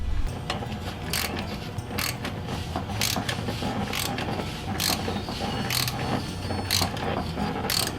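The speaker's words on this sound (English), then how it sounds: "So I got my tap in my socket, got my ratchet. See if we can clean out these threads." A ratchet turns a thread tap held in a socket to clean out threads on a GM OBS truck, giving steady close clicking and grinding with repeated sharper ratchet clicks over continuous mechanical noise.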